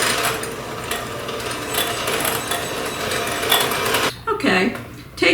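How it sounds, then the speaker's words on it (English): An electric hand beater creams ingredients for brownies made from cake mix, giving a steady close whirring motor with rattling that cuts out briefly, then starts again. A voice may be faintly present under it. "Now for this part, you're going to need an electric beater."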